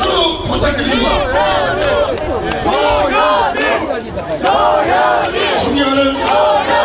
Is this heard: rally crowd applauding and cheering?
yes